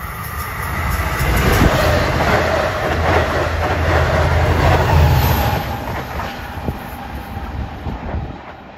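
A Long Island Rail Road train rushes past at Elmont on a clear day with a loud, sustained rumble and clattering wheels, buffeted by wind noise on the microphone before it fades.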